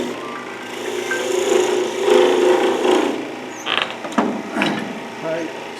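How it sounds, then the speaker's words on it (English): Parting tool cutting into a piece of wood spinning on a lathe, a close rasping scrape that rises and falls, with squeaky bursts toward the end and a voice talking at times. "I want to cut in here tight with the parting tool"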